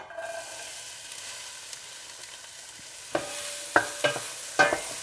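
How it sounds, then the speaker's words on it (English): Onions drop into hot avocado oil with a soft steady sizzle, followed by several sharp clacks and scrapes of a utensil against the pan near the end. "Once that's nice and hot, your onions go in."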